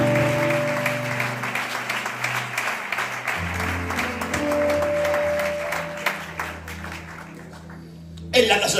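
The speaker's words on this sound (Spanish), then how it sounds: "El mejor aplauso que tengas para él." A church congregation at a retreat service applauds, a sustained wash of clapping over held organ or keyboard chords, with voices mixed in and a louder burst near the end.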